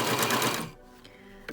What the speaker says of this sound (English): go ahead and sew a straight stitch along the top edge